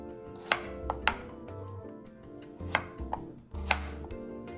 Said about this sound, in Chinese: 将木瓜切成约3厘米见方的大块